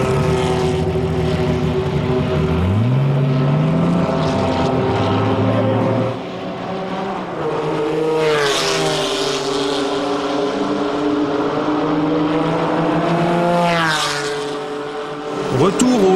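Race cars pull away from a pit stop at the Paul Ricard circuit in Le Castellet during a 1994 endurance race, loud engines rising and falling in pitch as they pass close by, with voices talking underneath.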